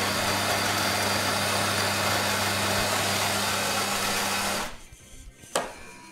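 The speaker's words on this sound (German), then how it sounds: "das Mahlwerk ist auf jeden Fall etwas leiser als bei dem Vorgängermodell" An inexpensive automatic coffee machine's grinder whirs loudly and continuously for about four and a half seconds, then stops abruptly, leaving quiet clicks and a faint thump as brewing begins.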